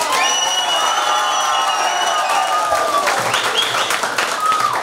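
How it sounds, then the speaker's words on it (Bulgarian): A crowd at a New Year's ball in Mengishevo, Bulgaria, applauds and cheers loudly for a dance-battle contestant, with dense clapping and whistles throughout and shouting voices mixed in. "Сега, искам ръкопляскания."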